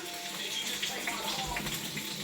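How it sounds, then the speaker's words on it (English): Hot cooked carrots and peas are tipped into a kitchen strainer, a brief rushing splash of water draining through, loud and close, with a voice faintly under it. "Over here, tip them in the strainer."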